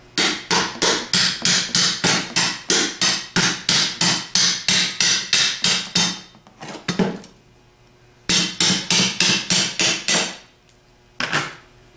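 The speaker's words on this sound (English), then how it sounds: "Holding the back half with one hand, tap off the front half." Front half of a 6G alternator being tapped off with a hammer, a fast run of loud, even metallic knocks, a pause, then a second run and a short final burst, with no talk.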